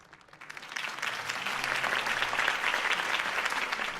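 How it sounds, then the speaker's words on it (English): Steady applause swells from a quiet start into sustained clapping from a crowd in Batman: The Telltale Series, continuous and fairly loud for several seconds. "could have heard that applause"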